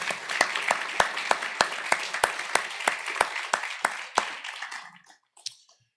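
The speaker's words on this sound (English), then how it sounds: "One more round of applause for these folks for putting themselves up." At a budget and candidates night, a small audience gives a round of applause, about a dozen loud, distinct claps close by that thin out and stop after about four seconds.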